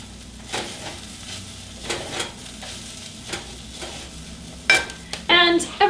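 Vegetables fry in oil in a pan for vegetarian bolognese, sizzling softly, with several scraping stirs and a louder clatter of a utensil near the end.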